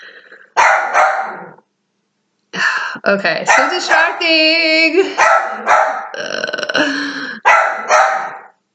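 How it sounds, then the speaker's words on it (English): A dog barks in loud bursts: a couple of close, sharp barks, then a longer run of rapid barks and growly yips after a short pause, with a person speaking briefly. "she hears something enough to bark"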